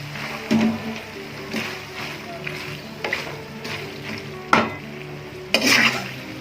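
Macaroni and vegetables are stirred in a pot: a low simmer carries on beneath, broken by about six spaced scraping, clattering strokes of the spoon, close by, with someone speaking at times.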